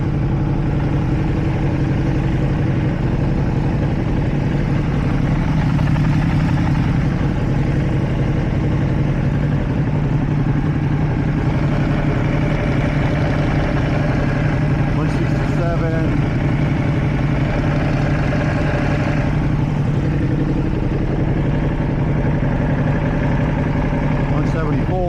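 A 2024 Ducati Panigale V2 motorcycle with stock exhaust idles steadily and loudly throughout while heating up, a constant low rumbling chug, with voices speaking over it.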